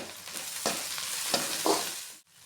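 Chicken being stirred and mixed with green chillies, mint and coriander in a hot pan, soft sizzling with a few scraping stir strokes, then a brief drop to near silence at the end.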